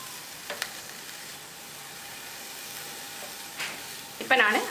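Coriander leaves and coconut sauté in a pan for chutney, giving a soft, steady sizzle with a few stirring scrapes and a brief louder hiss near the end.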